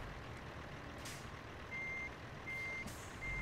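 Reversing beeps from an American truck in a driving simulator game as it backs into a parking spot, steady repeated tones over low engine rumble with a hiss of air brakes; someone talks over it.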